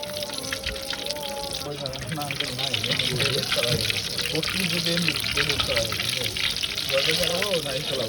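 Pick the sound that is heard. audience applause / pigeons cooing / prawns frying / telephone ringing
prawns frying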